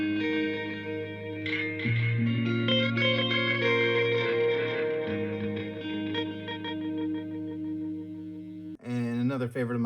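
Electric guitar runs through the Cosmos Echo effect on a Helix Stadium XL modeler in a dream-pop, shoegaze setting. Sustained chords and ringing notes wash together with repeating echoes and a shimmering tail for about ten seconds.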